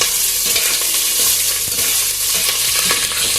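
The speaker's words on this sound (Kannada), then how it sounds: "ಈಗ ಜೀರಿಗೆ ಹಾಕೊತೀನಿ, ಹಸಿರು ಮೆಣಸಿಕಾಯನ್ನು ಹಾಕೊತೀನಿ" Cumin seeds and green chilies hitting hot ghee with cashews, a loud, close, steady sizzle with popping crackles and stirring scrapes throughout, no talking.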